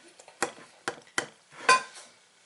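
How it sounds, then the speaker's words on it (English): A knife cuts through a piece of chocolate cake topped with icing on a plate, giving four sharp, separate clicks and scrapes against the plate, quiet and close, with short silences between them. "So I'm going to cut a piece of this cake"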